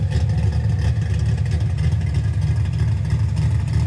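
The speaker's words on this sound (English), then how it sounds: "enjoy some of these different tones that you're going to hear coming out of the car, the way the cam sounds" A car engine with a Terminator X controlled carburetor idles with a choppy, lumpy cam rhythm, a loud, steady low rumble that pulses unevenly throughout and carries no talk.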